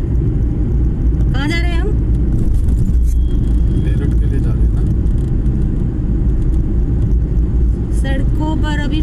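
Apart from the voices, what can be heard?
car driving on road from Delhi to Meerut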